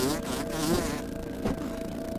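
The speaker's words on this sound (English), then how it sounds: "Mosquito ahead!" Insect buzzing from a mosquito in the survival video game Grounded: a loud, close, wavering drone that fades after about a second, with a softer buzz returning briefly.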